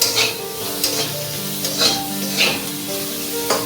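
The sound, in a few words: frying and stirring onion and capsicum in a pan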